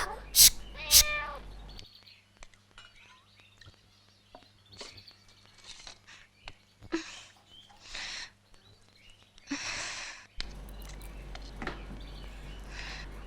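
A cat meows a few times in a quiet indoor scene, short faint calls scattered among soft household noises and brief bursts of sound at the start and end.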